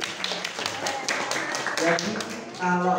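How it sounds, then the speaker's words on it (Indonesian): Scattered clapping from participants at a university taekwondo club leadership training session, with sharp individual claps rather than a full roar, mixed with people talking over them. "Oke, tepuk tangan dulu."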